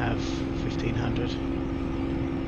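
A Spitfire's piston engine drones steadily through the climb out after takeoff from Perranporth, heard from inside the cockpit as a loud, continuous hum with a strong low tone and no break.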